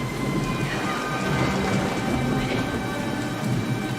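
Heavy rain falls steadily through a thunderstorm, with low rumbling thunder rolling underneath. The wash of rain stays constant and fairly loud throughout, with no voices.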